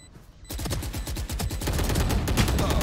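Rapid automatic gunfire from the video game Valorant fires in a dense, continuous burst that starts abruptly and stays loud and close to the end, with no talking over it.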